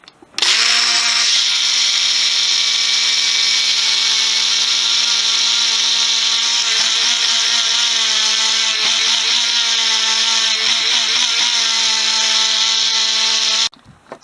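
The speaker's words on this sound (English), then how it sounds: "I take cane sugar, put it in the coffee grinder attachment" A coffee grinder attachment grinds cane sugar into icing sugar, whirring steadily at high speed for over ten seconds, a loud continuous motor drone that starts abruptly and stops at the end.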